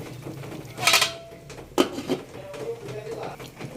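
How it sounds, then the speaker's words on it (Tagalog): A metal pot is clattered and then a lid set onto it with a couple of sharp clanks, while sinigang sa miso with mustard greens is cooked in a home kitchen. The sound is close and moderately loud with faint kitchen background. "Takpan lang natin ng saglit."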